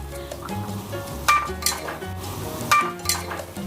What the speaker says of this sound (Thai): พี่ปูจะใส่มะระลงไปเลยนะคะ กับเม็ดพริกไทยสดค่ะ